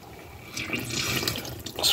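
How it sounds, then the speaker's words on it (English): Tap water running onto a paper towel held beneath it, a steady splashing hiss that swells and rises toward the end, with no voices. "Just wet down the paper towel as much as possible."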